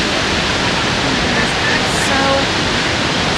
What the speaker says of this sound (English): where you can get a stunning view of all three of the waterfalls in Niagara Falls